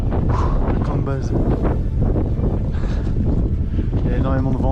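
Strong wind buffets the microphone at the high base camp on Kilimanjaro, a loud, rough, continuous rumble with people talking throughout.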